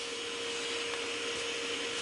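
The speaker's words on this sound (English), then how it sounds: "this is the minimum vacuum that the vacuum cleaner will pull" Vacuum cleaner running at its minimum setting to hold down a CNC vacuum table, a steady close whine with a constant tone and airy hiss, no talk.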